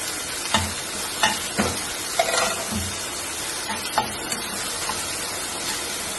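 Food sautéing in a pan while an avocado tuna sandwich is made: a continuous sizzle broken by repeated clacks and scrapes of a spatula stirring, close and fairly loud.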